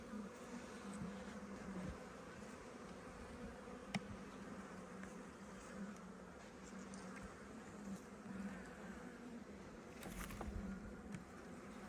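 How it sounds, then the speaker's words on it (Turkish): Many honeybees hum at a beehive in a dense, continuous buzz, soft and steady throughout, with faint rustles and small clicks nearby. "şu üst kısımdaki arıları görüyorsunuz"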